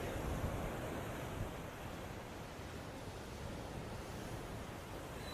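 Sea waves crash and wash onto a seaside road, heard as a steady broad roar of surf with some wind buffeting, fairly faint and continuous, with no voices.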